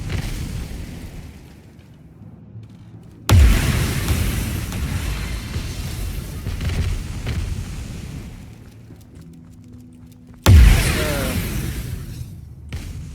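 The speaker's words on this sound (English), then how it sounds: "Jesus, that explosion is so loud." Two loud, booming explosions in a video game, one a few seconds in and another near the end, each with a sharp onset and long rumbling decay over continuous game noise.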